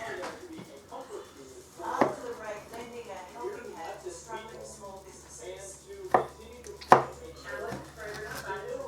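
A knife chops roasted tomatoes for Mexican shredded beef, giving a few sharp knocks against a board. Steady talking runs throughout and mostly covers the cuts.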